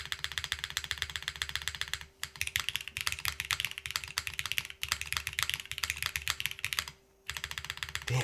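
Rapid typing on a mechanical keyboard fitted with a GMK spacebar, a dense close run of clacky keystrokes with a few brief pauses, heard alone without speech.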